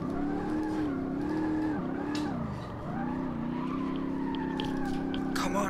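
In the Automobilista 2 racing game, a car's engine drones and wavers in pitch through a long drift, with tire squeal running beneath the steady, loud motor note and a dip midway.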